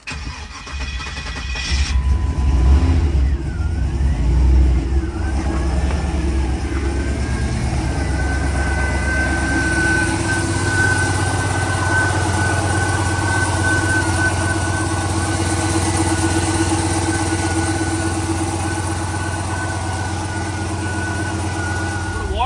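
Turbocharged LS-powered Cadillac burnout car cranking and firing up, then settling into a loud, steady idle heard up close with a whining tone above the rumble.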